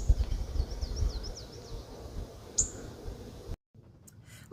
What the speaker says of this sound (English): Nashville warblers utter metallic-sounding spink calls.